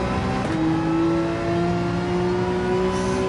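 A GT3 race car in Gran Turismo 7 at Barcelona, its engine note climbing steadily as it accelerates out of a corner, one continuous rising drone with no voice over it.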